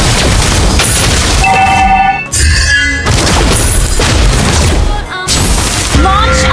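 Explosions and crashes as a turret is destroyed in Mobile Legends, loud booming blasts over dense game music and effects, with brief electronic tones between them.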